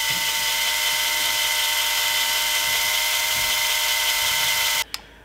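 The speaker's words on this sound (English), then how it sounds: "We're just going to drill a hole." A small power drill whines at a steady high pitch for several seconds while boring a hole in a toy car base, then cuts off abruptly with a brief clatter.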